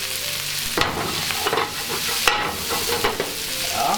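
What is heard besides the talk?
cabbage crackling as it fries in a pan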